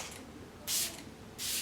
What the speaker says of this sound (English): a finishing spray at the end to look less powdery and more lived in. This one is from Smashbox.